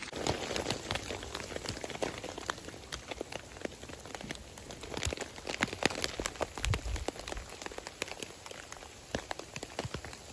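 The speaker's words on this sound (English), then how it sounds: "Oh, and the rain's getting worse." Heavy rain falls during a storm on a solo backpacking trip, a dense, constant patter of drops striking a nearby surface, with scattered louder taps throughout.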